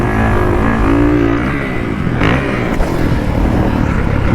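Kawasaki 450 motocross bike idling loud and close just after an electric start, a steady throbbing engine note with a brief blip of revs partway through.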